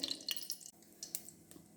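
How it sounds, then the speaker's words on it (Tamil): Ghee drips and splashes into a cooker pot, a few quiet irregular plops over a faint background hiss, no voices. "அப்புறமா நான் நெய் ஊற்றுறேங்க."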